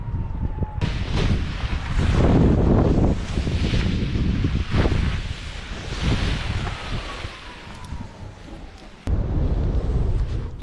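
Wind on a paragliding launch site roars and buffets the microphone in loud, gusting waves for the whole stretch, with no voices.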